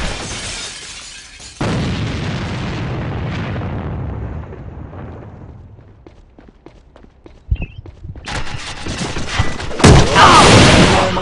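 A grenade explosion and bursts of gunfire in the A.V.A online shooter game, with a loud blast, rumbling debris and rapid clattering shots, plus footsteps and game noise around them.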